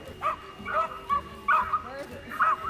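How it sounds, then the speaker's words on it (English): A terrier gives a series of sharp, yappy barks, about five in quick succession, close by and loud, beside tubes holding pet rats at a dog sport event. "Barking again right next to the tubes and growling and trying to bite the tube."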